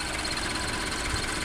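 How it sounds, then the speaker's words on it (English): A Scion FR-S engine with an aftermarket intake filter and sound-delete tube drones steadily at idle, a close, even, rumbling hum with no voices over it. "the engine is a little loud"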